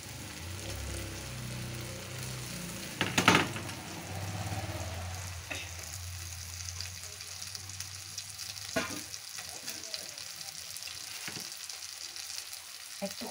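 Turmeric and cumin powder masala frying in a pan for a village-style chicken liver and gizzard curry, a steady soft sizzle with a sharp clatter early on and a few brief knocks later.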